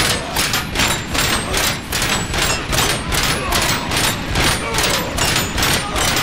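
Rapid gunfire in the RoboCop video game, a steady train of loud, evenly spaced shots pounding away without a break.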